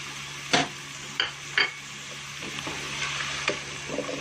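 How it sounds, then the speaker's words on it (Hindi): Green beans frying in a pan, with a soft steady sizzle and a few sharp clinks of a utensil stirring against the pan. "ये हमारी फलियां फ्राई हो रही हैं।"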